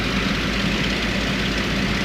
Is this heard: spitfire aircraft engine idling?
yes